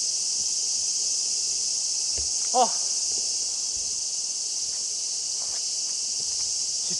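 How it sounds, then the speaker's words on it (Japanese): Loud summer cicadas drone in a continuous high shrill buzz at an old castle site in Japan, steady throughout, with a brief short voice and a few faint footsteps beneath. "セミがうるせえ。"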